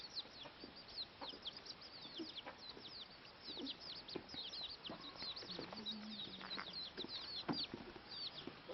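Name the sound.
chicken clucking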